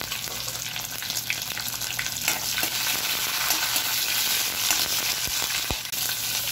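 Curry leaves and green chillies dropped into hot oil for a dry potato bhaji, crackling and sizzling loudly and continuously close by, with a few sharp pops and stirring scrapes and no talking.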